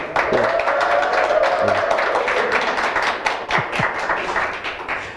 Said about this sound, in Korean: 큰 박수 한번 같이